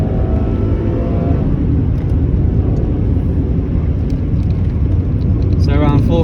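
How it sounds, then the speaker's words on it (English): Rover 75 V6 automatic in sport mode at full throttle, its engine building a steady, loud rumbling drone from inside the cabin that holds throughout, with a voice talking over it. "Let's put it in sport mode on this road. My foot's to the floor."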